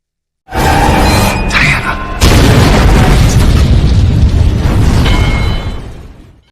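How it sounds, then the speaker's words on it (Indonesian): A car blows up in a film scene, a loud booming explosion that bursts in and roars on for several seconds with a crackling, rumbling tail before fading out, with no voices over it. "berhasil keluar dari mobil, sebelum mobil itu meledak"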